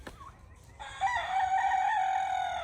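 A rooster crows in one sustained, loud call, preceded by a brief quieter cluck, heard near a backyard chicken coop in the morning as he calls the hens out.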